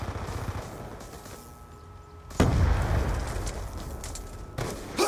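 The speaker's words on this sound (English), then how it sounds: "Grenade." A grenade blows up in the shooter game Black Ops 2 with a sudden loud, deep blast, followed by a rumbling, noisy roar from the team deathmatch, and a second sharper burst near the end.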